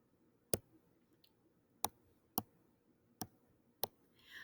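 Calculator keys being pressed while typing in an expression, five crisp isolated clicks spaced irregularly over a quiet background, with no talking.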